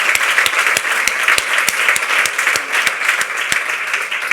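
An audience applauds a doctor, director of a medical research centre, at a women's health alliance presentation: steady, dense clapping throughout, close and loud, with sharp individual claps standing out above the crowd.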